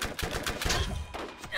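Rapid bursts of gunfire in the Borderlands video game, a dense run of shots packed close together across a short stretch, loud and near with little pause between them.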